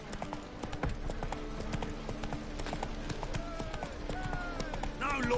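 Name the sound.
horse Roach running, from video game The Witcher 3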